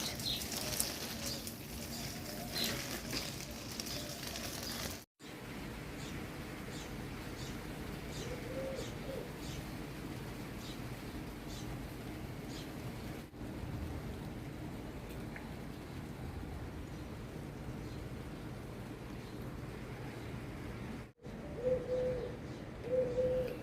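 Outdoor birdsong with pigeon or dove cooing and scattered chirps over a steady wash of running water, faint and continuous, broken by a couple of brief gaps.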